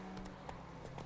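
Roach, a horse in The Witcher 3: Wild Hunt, galloping in-game, giving a steady run of soft hoofbeats under a low game hum, brief and fairly quiet.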